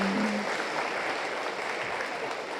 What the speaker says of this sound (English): we want to give her a big round of applause anyways